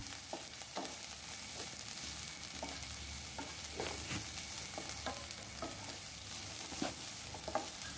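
Chopped green chili and curry leaves sautéing in a pan for a vegetable thoran, a faint, continuous sizzle broken by regular light scrapes of a spoon stirring, heard close and alone.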